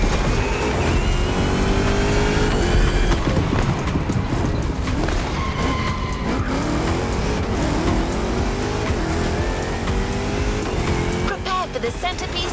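Mustang Boss 429 muscle car racing in The Crew Motorfest, its engine roaring loud and continuous with revving, tire squeal and skids under a busy game mix.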